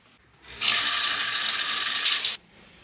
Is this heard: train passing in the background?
no